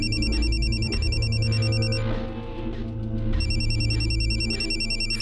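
A telephone rings with a steady electronic trill, pausing briefly in the middle before ringing again, over a low background hum.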